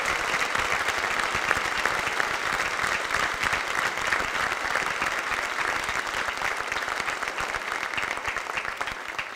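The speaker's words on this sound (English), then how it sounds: "How about a round of applause for all the seniors?" A school awards audience applauds the seniors at the North Excellence Award 2024, a steady, unbroken wash of many hands clapping, moderately distant and even throughout with no talk over it.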